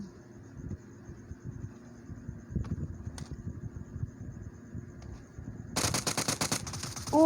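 Rapid bursts of automatic gunfire from PUBG Mobile crackle over a steady low background hum, growing dense and loud near the end.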